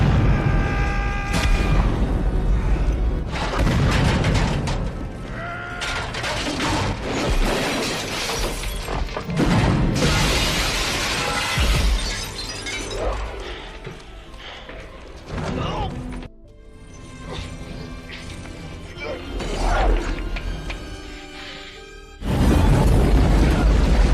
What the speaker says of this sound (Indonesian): bom pun meledak menghancurkan loteng beserta helikopter tadi